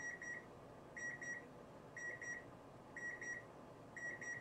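Kitchen timer beeping in a room, paired high electronic beeps repeating once per second, five sets in a row, faint over a soft background hiss.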